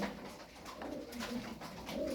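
Soft, low pigeon cooing repeats over a steady outdoor background hum, fairly close and moderately loud, with no talking.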